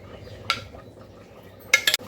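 Spoon scraping and clinking against a pan while fried rice is mixed with ghee, a few sharp metallic clinks spaced out over a quiet, low background.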